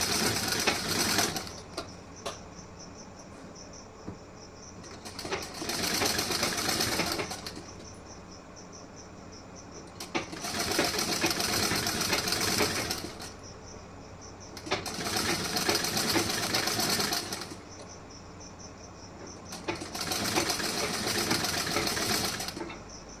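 Sewing machine stitching a blouse, running in four sustained bursts of rapid, steady whirring, each lasting a few seconds and separated by short, quieter pauses, close and fairly loud.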